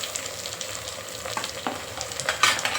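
Chopped onion and tomatoes frying and being stirred in a pan, a continuous crackling sizzle with scraping stir strokes that grow slightly louder toward the end, no talking.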